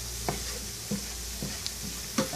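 Egyptian colocasia stew sizzles steadily in a pot while a utensil stirs it, with a constant frying hiss and a few sharp scraping knocks spaced across the moment.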